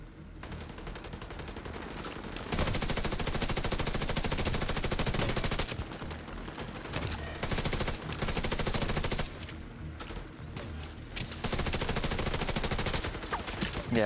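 Sustained automatic gunfire in The Division, dense loud rapid shooting that runs nearly continuously with brief dips, close and dominant, with occasional game voices underneath.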